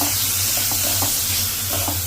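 Onion and spices fry in hot oil for a tilapia curry, a constant close sizzle with occasional light stirring clicks and scrapes and no voices.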